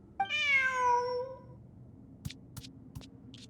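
A cat in the Genshin Impact video game gives one clear, drawn-out meow close up, followed by a few faint clicks and taps in a quiet game scene.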